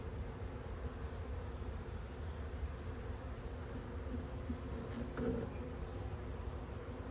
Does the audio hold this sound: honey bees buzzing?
yes